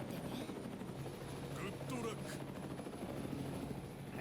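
An animated helicopter from Ninjala whirs at a faint, steady level throughout, a low continuous rotor drone with brief higher sounds layered on top.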